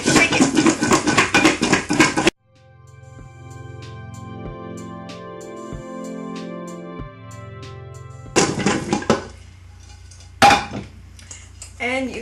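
Potato cottage fries with herbs and spices rattle hard inside a bowl capped with a dinner plate, in two loud bursts of vigorous shaking separated by a quieter stretch of soft background music.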